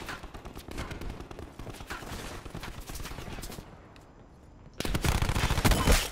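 Automatic gunfire in hardcore mode of Call of Duty Black Ops 4, loud rapid bursts for several seconds, a brief lull, then an even heavier volley at close range.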